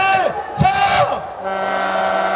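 At a protest rally outside the Korean National Assembly, a crowd shouts and cheers in loud, overlapping chants and rising whoops, close and energetic, for a couple of seconds.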